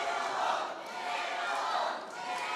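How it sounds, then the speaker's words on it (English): A wrestling crowd at an indoor independent show cheers and chants in rising, swelling waves, a dense roar of many voices that fills the whole short stretch. "this crowd is trying to give Manimal a second wind"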